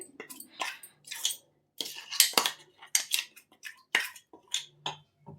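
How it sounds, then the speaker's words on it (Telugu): A spoon scrapes and clinks against a bowl while jaggery water is mixed into ragi dosa batter, a run of short, close strokes with brief wet sounds and gaps between them. "ఆ బెల్లం వాటర్ని కలిపేసుకుంటే కొంచెం మంచిగా థిక్గా వస్తుంది"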